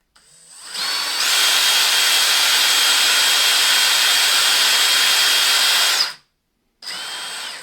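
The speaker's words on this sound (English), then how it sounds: "You're actually drilling at kind of an angle because you want to drill exactly normal to this surface." A power drill bores into the hardwood body of a DIY Jazzmaster-style guitar, whining loud and steady for about five seconds, cutting out briefly, then starting again.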